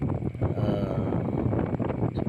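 Strong wind blows over open water during a fishing trip, a loud, continuous roaring gust buffeting close and steady throughout.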